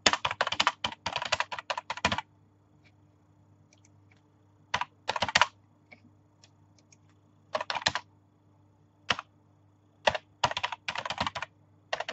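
Computer keyboard typing in bursts of rapid clicking keystrokes, broken by pauses and a few isolated taps, close and fairly loud over a quiet room hum.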